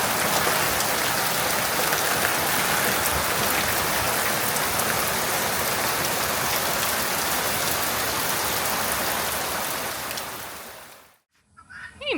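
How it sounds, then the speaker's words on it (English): Heavy rain pours steadily on a farm, a dense, loud wash of drops that holds for about eleven seconds before cutting off abruptly into near silence. "That's a lot of rain."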